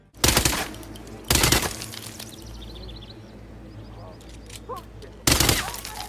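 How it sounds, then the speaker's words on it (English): Three sharp, loud gunshots ring out, with thin whizzing ricochet whines streaking between them, like action game sound effects. "implemented some ricochet sound effects into their games"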